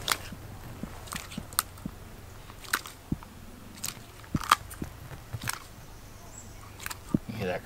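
A Siamese crocodile bites down on food during a feeding, giving a series of sharp, scattered crunches and cracks up close over several seconds, with some faint rustling between them.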